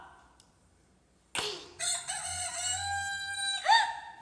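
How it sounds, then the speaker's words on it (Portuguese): A rooster crows once, nearby and loud, with a drawn-out, wavering call followed by a short squawk in a quiet setting. "A galinha."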